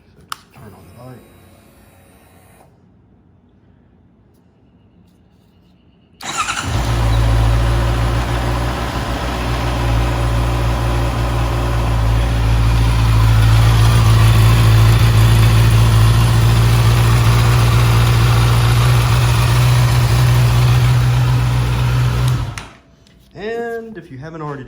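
A 2020 Honda CB650R motorcycle, just given its first oil change, starts and idles steadily with a smooth, loud, close engine hum for about fifteen seconds before shutting off; brief speech comes before and after.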